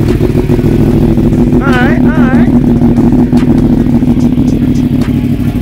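A tuned motorcycle engine idles loud and close with a steady, deep, even rumble throughout, and people talk over it briefly.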